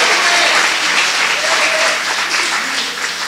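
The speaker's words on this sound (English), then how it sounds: "Can we give the Lord a hand clap of praise today?" A church congregation gives a hand clap of praise to the Lord during a service: steady, full, close-sounding applause from many hands, loud and unbroken across the whole moment.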